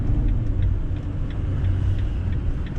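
A school bus engine rumbles low and steady in street traffic, heard from a vehicle stuck close behind it, with faint ticking over the continuous drone.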